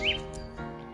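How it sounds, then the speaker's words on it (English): A short bright bird chirp rings out near the start, then softer calls over a steady low background hum. "do you hear the birds singing?"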